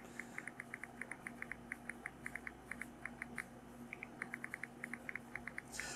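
Fast typing on a Samsung Galaxy A33 5G touchscreen produces a rapid, uneven string of small tapping clicks from the on-screen keyboard, close and quiet, with brief pauses between bursts.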